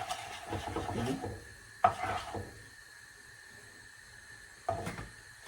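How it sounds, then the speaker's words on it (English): Curry stirred in hot oil in a pan, a few scraping, rubbing strokes with sharp clacks of the utensil against the pan, fairly close and heard without talk. "And some oil, some hot oil. Yeah. We give it a stir like so."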